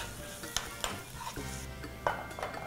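Sofrito sizzles in a pan while being stirred, with a few sharp clinks of the utensil against the pan over the continuous frying crackle.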